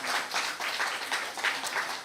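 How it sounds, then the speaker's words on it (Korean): A church congregation applauds during a Sunday worship service, a soft, fairly distant patter of many hands clapping in uneven bursts for about two seconds. "다시 한번 박수하겠습니다."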